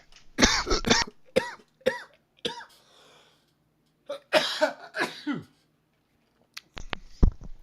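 Several harsh, close coughs in a row, followed by a pause, another burst of coughing, and a final short cough after silence.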